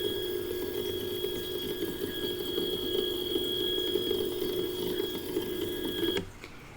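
A homemade auto-focuser motor drives the focuser of a telescope, giving a steady, close whirring hum with tonal whine that runs for about six seconds and then cuts off abruptly, leaving quiet room tone.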